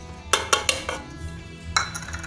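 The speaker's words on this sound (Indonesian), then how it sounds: "Kita masukkan ke dalam panci" Pieces of ginger and palm sugar dropped into a metal cooking pot, giving three quick clinks in a row, then a brief pause and one more clink, all close and fairly loud.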